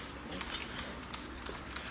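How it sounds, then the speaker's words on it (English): Short hissing spritzes from a small spray bottle of 91% rubbing alcohol misted over cold process mint chip soap to help piping stick, several quick bursts in a row, close and soft. "I'm going to give this a little bit of a spritz so that makes sure the piping will stick a little bit better"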